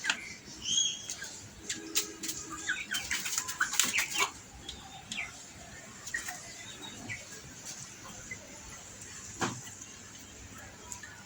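Tiger chickens eat feed, with soft clucks, pecking taps and a flutter of wings near the start, then quieter scratching and occasional clicks.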